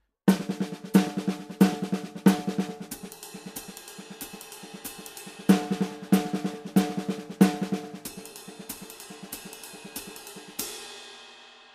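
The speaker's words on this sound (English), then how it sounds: "a jazz ride pattern if you play it on the ride cymbal" A drum kit plays a sextuplet paradiddle-diddle pattern on the ride cymbal in a jazz-style ride groove, with steady fast cymbal strokes and accented hits, ending on a ringing crash.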